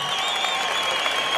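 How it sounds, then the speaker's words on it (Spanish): A crowd at a rodeo event at La Candelaria in Salvatierra, Guanajuato, claps loudly and continuously, a dense wash of applause with faint cheering mixed in and no break. "Fuerte el aplauso."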